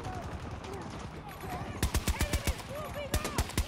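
Gunfire in a Battlefield 2042 match, short rhythmic bursts of rapid shots over background game sounds, with a voice talking throughout.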